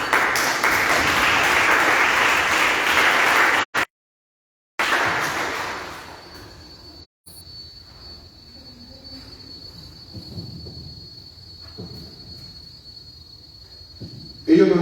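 A church congregation claps during a sermon, with dense applause for about six seconds, a brief cut, then quieter room sound as it fades out.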